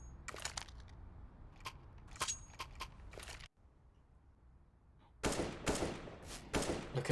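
Gunfire from an esports shooter match, with clusters of sharp crisp tap shots in quick succession, a brief silent gap, then denser bursts of shots toward the end.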